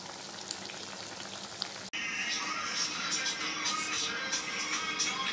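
A paneer posto gravy bubbles and sizzles in a pan on the stove, a steady close hiss with soft popping that grows busier after a brief cut, with no talk over it.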